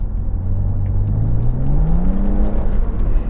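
A BMW Z4 with a torque-converter automatic accelerates under a heavy throttle, its engine note climbing smoothly over a steady road rumble for a few seconds, with no voices.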